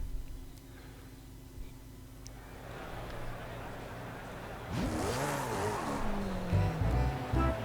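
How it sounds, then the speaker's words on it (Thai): A quiet, hissy stretch gives way to a McLaren P1 engine in the video game Forza Horizon 5 revving up and down, its pitch sweeping in rising and falling curves, loud and close. "เสียงรถนี้สุดยอดเนาะ"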